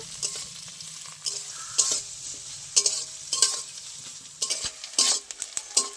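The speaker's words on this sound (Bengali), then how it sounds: "পেঁয়াজটা আমার লাল লাল করে ভেজে নিয়েছি" Chopped onion fries in a pan until browned, as a soft background sizzle is punctuated by loud, irregular spatula scrapes and knocks every half second or so.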